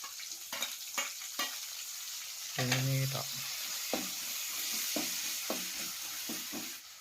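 Food frying in a pan in a home kitchen, a steady broadband sizzle running throughout with intermittent stirring clatter; a voice speaks briefly in the middle.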